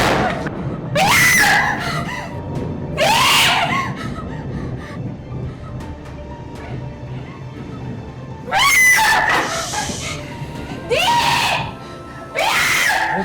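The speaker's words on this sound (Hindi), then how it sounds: "क्यों चिल्ला रही हो?" A woman screams in repeated loud, shrill bursts, about five in all, in a Pakistani TV drama scene, with quieter stretches of background noise and faint voices between them.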